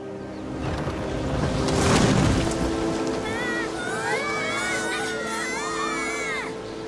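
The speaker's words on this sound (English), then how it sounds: "This storm's just blew apart a house." Cartoon storm with heavy rain hissing steadily and a loud thunder rumble swelling and fading early on, then a character's voice talking over the downpour.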